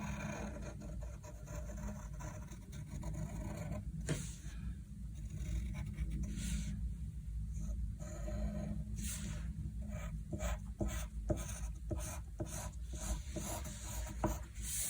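A pen scratches steadily over the lines of a frog drawing, a close, continuous rubbing with short strokes and small taps, over low background hum and with no talking.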